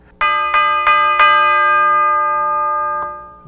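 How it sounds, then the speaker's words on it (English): A bell in a hip-hop beat is struck four times in quick succession, its bright metallic tone ringing on and sustaining, then sounds once more softly before fading. "And then I added a bell."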